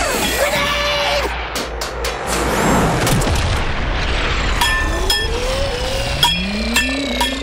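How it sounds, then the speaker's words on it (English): A grenade goes off in an animated cartoon with a loud booming blast and crashing debris, followed by whooshing and rising whistling effects, and no speech. "Grenade!"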